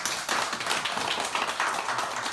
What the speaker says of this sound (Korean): 우리 환영하는 박수 부탁드립니다